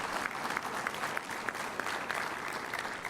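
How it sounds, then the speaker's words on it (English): An audience at a community meeting on a highway improvement project claps heartily, even and continuous, filling the room without any voices. "we need to give a hearty round of applause, please, to the California Transportation Commission"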